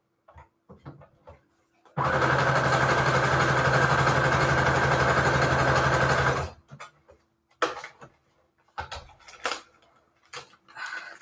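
A sewing machine stitching through scrap paper pages runs in one loud, steady, whirring burst lasting several seconds, followed by scattered clicks and handling noises nearby.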